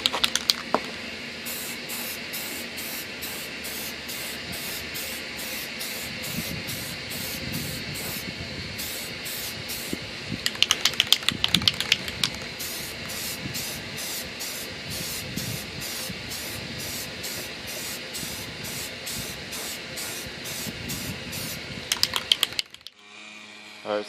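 Spray primer being applied to a homemade speaker enclosure for a 2.1 system, a steady close hiss running almost continuously with slight surges and brief breaks near the end, no voices.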